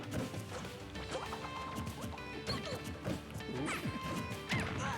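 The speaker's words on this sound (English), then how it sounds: "JoJo starting to swing, doubling down on those F smashes" Smash attacks hitting in Super Smash Bros. Ultimate during a Toon Link versus Jigglypuff tournament match, a dense run of loud crashing impacts and whooshes layered with game effects, with no talk.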